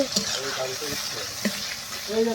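Garlic and marinated mutton frying in a pan, a soft sizzle with a few stirring knocks, heard beneath a voice speaking throughout.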